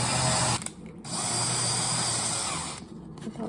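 A power drill drives two screws into a small piece of drywall, whirring loudly and steadily in two runs separated by brief pauses, with no talking.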